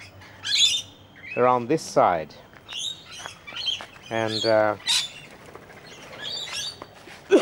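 Parrots calling in a back garden where bread is spread out, a series of harsh squawks and chirps at close to moderate distance, interrupted by someone speaking.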